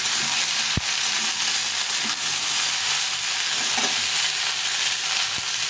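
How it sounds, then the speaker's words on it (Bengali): Mixed vegetables fry in a pan for a vegetarian curry, a loud, even hiss of oil that runs throughout with a few faint clicks from stirring and no talking. "এখন অন্য অন্য সবজিগুলো সাজিয়ে দেবো দিয়ে ভালো করে ভেজে নেব"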